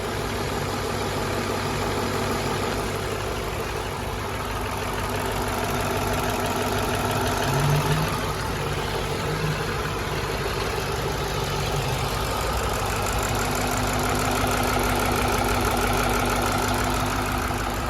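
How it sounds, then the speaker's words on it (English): A 2005 Ford Mustang GT engine idles steadily, heard up close beside the belts under the hood, a continuous low rumble with even mechanical whir and no breaks across the whole stretch. "So that's a good listen to it idling."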